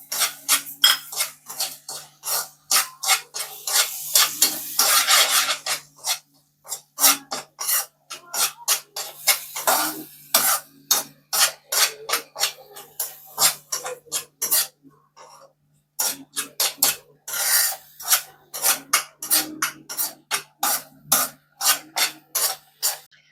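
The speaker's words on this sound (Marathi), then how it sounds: "आता आपल्याला याच्यामध्ये साखर घालून या मिश्रणात विरघळवून घ्यायची साखर." Spoon scraping and rasping against a pan as sugar is stirred into a banana modak mixture, loud repeated strokes in a steady rhythm with a short pause midway, no talk.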